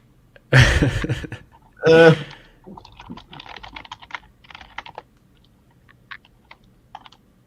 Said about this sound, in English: There's someone typing that.